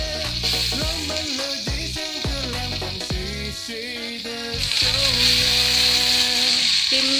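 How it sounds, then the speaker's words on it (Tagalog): Ingredients sizzle and crackle in a hot pan while being sautéed with salt, with a spoon stirring and scraping in repeated strokes. The frying grows louder and denser toward the end. "Saka natin siya igisa."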